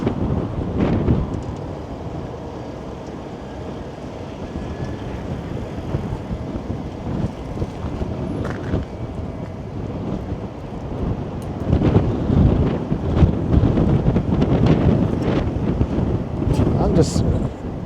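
Strong wind buffets a microphone outdoors during a walk in midtown Toronto. It makes a continuous low roaring rumble that grows louder and gustier in the second half.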